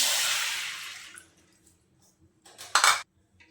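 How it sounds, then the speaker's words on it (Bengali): Water from a bowl is poured into a karahi on a lit gas stove, giving a loud splashing pour that fades, followed by a short clatter of the bowl against the pan. "কড়ার মধ্যে দিয়ে দিচ্ছি এই বাটিটা কিছু কম 1 বাটি পানি"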